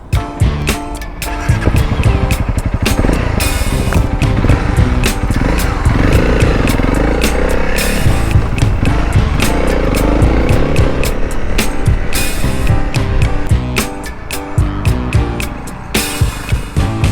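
A Honda CRF300L motorcycle rides a road on a long trip, its engine droning loud and steady throughout with wind rush and small shifts in pitch, no talking.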